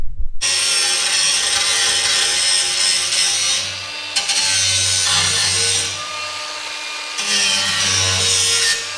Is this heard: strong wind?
no